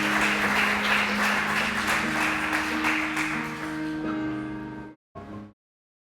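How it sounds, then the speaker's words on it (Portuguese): A church congregation applauds in a dense, sustained wash of clapping mixed with steady musical tones, which fades and then cuts off abruptly. "Então aplauda o nome santo de Jesus."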